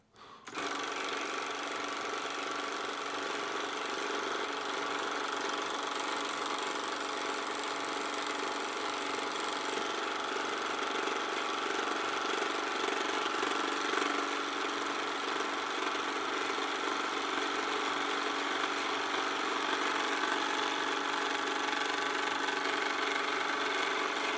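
The motor of a Canon Scoopic 16M 16mm film camera under repair whirs steadily and mechanically with a fast, even clatter, running continuously at close range with no talking.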